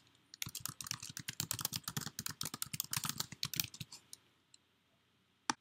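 Someone types an incoming mail server address on a Mac computer keyboard: a fast, close burst of crisp key clicks that thins out and stops, followed by a couple of isolated taps.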